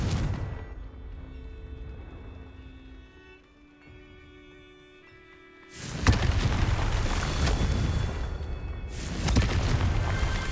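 In the video game Hogwarts Legacy, a fiery Confringo spell explosion erupts after a quiet tonal lull as a loud rumbling boom, followed a few seconds later by a second heavy blast.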